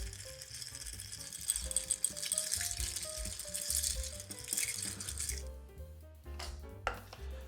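Ice rattles and clinks steadily in a mixing glass as a white old fashioned of mezcal and tequila is stirred, a busy close rhythm that falls quieter toward the end with a few last knocks.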